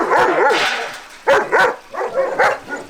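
Several dogs bark and yip in short, loud bursts at a kennel in Limuru, Kiambu County, Kenya, with clustered barks close by and brief gaps between volleys.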